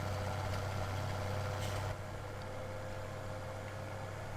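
A tracked tractor pulling a planting machine runs in Farming Simulator 2017, its engine a steady low drone that drops to a quieter idle hum partway through.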